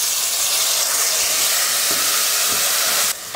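A tomato frying in a pan for mutton keema biryani, giving a steady, bright hiss of sizzling oil that runs continuously and close, cutting out abruptly near the end with a brief clatter.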